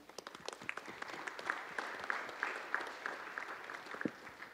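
Applause from a conference audience at a UN high-level panel on financing development, a moderate steady patter of many hands, fairly faint and distant, sustained throughout with a few brief voices mixed in.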